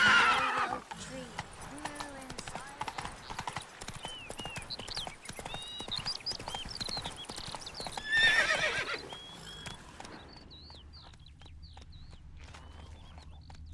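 In a video game, a horse gallops with rhythmic clip-clop hoofbeats, loud neighs and whinnies at the start and again midway, under some voices, then fades to quieter ambience.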